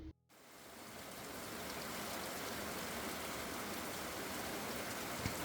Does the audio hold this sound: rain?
yes